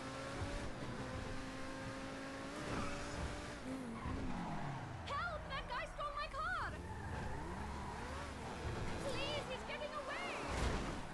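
Car driving hard in GTA V, with revving engine tones rising and falling and repeated screeching tire skids over a busy game soundscape, fairly faint overall, with a voice talking over it.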